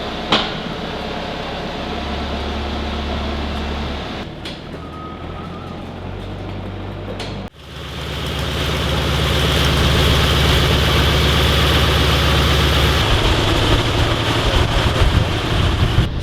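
A WWII tank engine, unrun for months and primed with neat fuel in the cylinders, turns over and catches with a thump, then settles into a loud, steady, deep running rumble that swells and holds.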